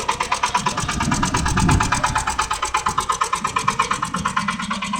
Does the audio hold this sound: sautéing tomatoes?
no